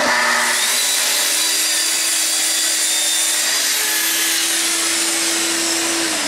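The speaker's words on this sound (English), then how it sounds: "if you want to, you can actually saw this way." Power saw cutting wood along a TSO GRS-16 guide rail square clamped to the workpiece, a loud, steady, unbroken whine with rushing noise lasting about six seconds.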